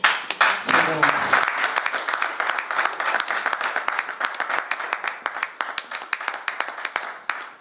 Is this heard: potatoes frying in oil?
no